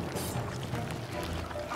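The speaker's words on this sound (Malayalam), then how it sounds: "ദേവ ട്യൂബിലേക്ക് ഇവിടെ വെള്ളം ഒഴിച്ച്" Water pours into a tube in the It Takes Two video game as a steady, rushing wash of liquid, moderately loud and unbroken throughout.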